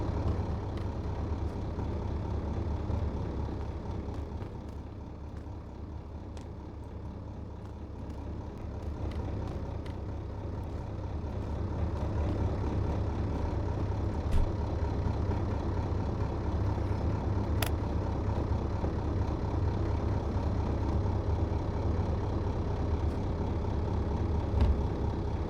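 A car engine in the My Garage game hums steadily on a test drive, a low continuous rumble that grows slightly louder midway, with faint clicks and no voices.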